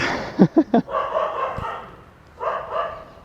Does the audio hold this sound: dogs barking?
yes